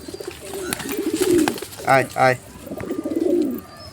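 Soft coos of pigeons, including a young one, come in short bursts, with two louder rounded calls near the middle, while a person calls out repeatedly over them.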